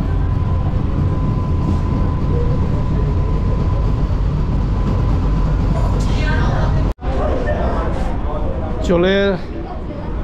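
An AC local train on the Bangaon–Sealdah line rumbles steadily from inside the carriage, with a sharp break near the end followed by squealing brake tones as it slows toward a station; people talk over the constant rolling noise.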